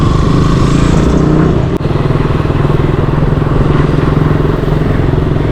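Close, loud motorcycle engine running steadily with a rough, clattering throb, on a bike with a second gear problem; a brief dip and knock interrupts it partway through.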